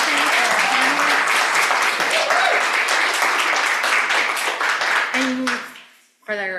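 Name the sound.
audience applause for panelists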